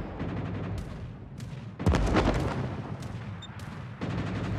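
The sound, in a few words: gunfire from the video game World of Warships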